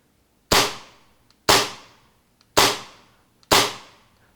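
A TM Hi-Capa 4.3 airsoft pistol with a plastic slide fires four sharp, loud shots, each about a second apart with a short decaying tail, close by and with no talk.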